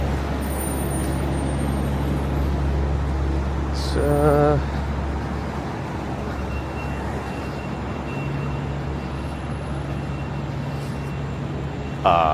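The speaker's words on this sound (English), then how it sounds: "Yes, there is a garbage truck." Manhattan street traffic with a steady low engine rumble, including a garbage truck, a short hiss of air brakes near the four-second mark, and another brake burst at the end.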